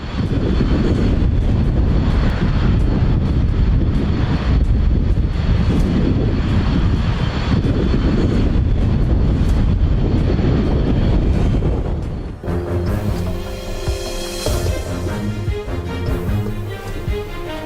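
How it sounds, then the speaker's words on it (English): A plane lands almost sideways in powerful London winds, its engines giving a loud, sustained roar that drops abruptly near the end into a different, more tonal mechanical whine. "In London, powerful winds forced a plane to land almost sideways."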